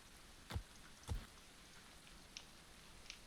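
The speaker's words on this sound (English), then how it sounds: "that hailstorm is damaging some of our crops" Hailstorm in the medieval colony-survival game Going Medieval, heard as a soft steady patter with two sharper thumps and a few light ticks, faint and with no talk.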